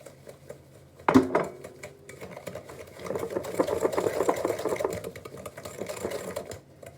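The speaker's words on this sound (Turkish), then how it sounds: "Şimdi hemen şekerle yumurtayı şöyle çırpmaya devam ediyorum" Eggs and sugar being whisked for zebra cake batter: a steady, motor-like whirr with clattering against the bowl kicks in after a sharp knock and runs continuously, fairly close.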